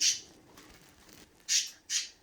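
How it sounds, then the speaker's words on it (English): Birds squawking as a sound effect in a read-aloud seaside story, one loud cry at the start, then quiet, then two more sharp squawks close together near the end. "The birds are very excited about the music of the sea."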